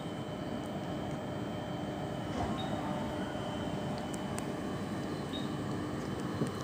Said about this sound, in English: This is an intercity I service. The front leading car is EMT 152